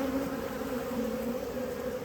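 Honey bees hum steadily at an open hive being inspected without smoke, a close, continuous drone of many wings that holds level throughout with no voices.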